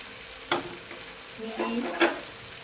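Okra frying in a pan, a soft steady sizzle with a few louder scraping stirs of a spatula close by.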